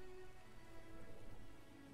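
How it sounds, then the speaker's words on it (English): Steady rain falls in The Witcher video game, a dense continuous hiss with faint tonal game ambience underneath, moderately quiet and without talk. "It is a rainy, shitty day."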